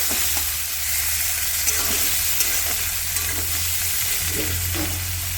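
Raw onions frying in hot oil while being stirred, a constant close sizzle with periodic scraping strokes of a spatula against the pan, no voices.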